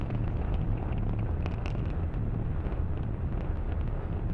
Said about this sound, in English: Falcon 9 has successfully lifted off from pad 39A.